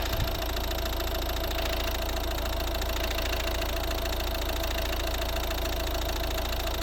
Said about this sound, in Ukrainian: Так, робота двигуна.